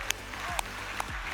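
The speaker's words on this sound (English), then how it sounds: "Keep the applause going because we are over time." Panel audience at a freedom-of-expression forum applauding the speakers, a brief burst of dense, steady clapping with a few sharper claps standing out.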